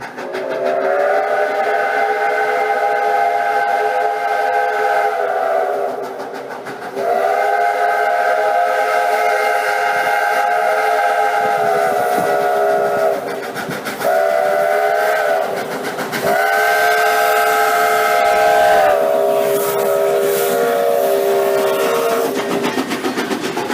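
Valley Railroad No. 2 steam locomotive at a July 4th steam-up event sounds a long, loud multi-tone steam whistle in several sustained blasts with short breaks, over the running train's rumble and clatter.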